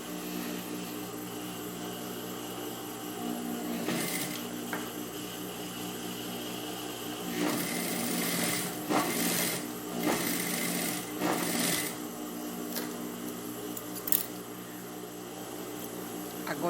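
A sewing machine stitches the seam of a child's pajama, its faint steady motor hum broken by brief louder bursts of stitching over several seconds, alone in a quiet room.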